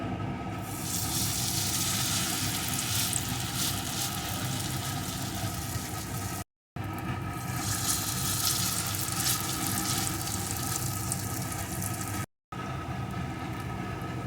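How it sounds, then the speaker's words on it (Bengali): Spicy pumpkin fritters sizzle steadily in hot oil in a wok over a low flame, a dense continuous crackle that carries on with two brief breaks and no voices. "এবার বড়াগুলোকে একে একে করে দিয়ে দেব আর ভেজে নেব"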